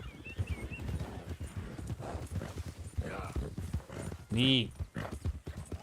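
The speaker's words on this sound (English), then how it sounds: "Sinead is galloping well this evening" Horse hooves galloping in Red Dead Redemption 2, a steady rapid clip-clop throughout with a whinny partway through, while a person talks briefly over it.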